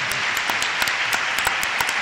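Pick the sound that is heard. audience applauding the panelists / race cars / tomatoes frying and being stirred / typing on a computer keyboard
audience applauding the panelists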